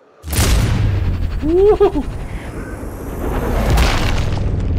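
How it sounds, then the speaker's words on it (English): A single loud sniper rifle shot booms in Sniper Ghost Warrior Contracts 2, with a sharp onset followed by a long rumbling tail. A brief excited exclamation rises over the reverberating report. "I just shot his whole face off with a bullet."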